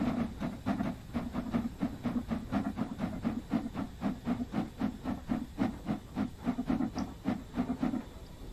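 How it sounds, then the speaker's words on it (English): Stanier 8F steam locomotive in Train Sim World 2 working hard, a steady rhythmic chuff of exhaust steam beats with hissing bursts, moderately loud and even, no voices. "I'll show you the puffing steam again"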